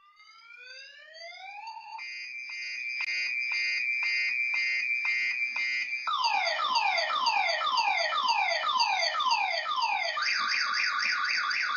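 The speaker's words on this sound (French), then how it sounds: "On entend maintenant une sirène." A loud electronic alarm siren sounds continuously and on its own, rising at first, then a steady pulsing wail, then rapid sweeping whoops, and finally a faster warbling pattern.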